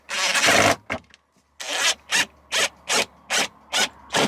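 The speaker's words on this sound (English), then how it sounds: "So just screwing the plate back on." Screws are driven back into a plate inside a self-built Sprinter campervan, a long grinding rasp followed by a regular series of short, evenly spaced bursts, close and fairly loud with no talking.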